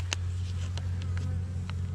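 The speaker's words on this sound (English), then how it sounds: "We've seen some decent bees in the front, so we're hoping we got bees in the bottom too." Honeybees hum at a beehive during a spring hive inspection, a low, steady drone close by, with a few faint knocks and taps over it.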